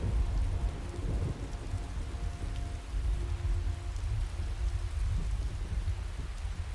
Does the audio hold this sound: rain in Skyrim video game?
yes